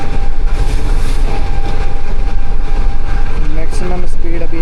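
Green Line Express passenger train from Islamabad to Karachi running at about 115 km/h, a loud, steady rumble and rattle of wheels and carriages heard from inside, with a faint voice near the end.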